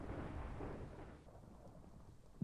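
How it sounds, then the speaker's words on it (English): Deep, rumbling thunder from a Minecraft cinematic storm, a low roll that fades after about a second, then a sharp crack bursts in right at the end. "The cracks of thunder shook the very foundation of the lighthouse."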